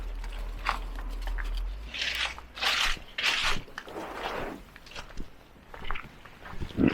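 Footsteps crunching through dry fallen autumn leaves in a former lead mining village in Northumberland, a close, irregular series of rustling crunches with a low rumble at the start.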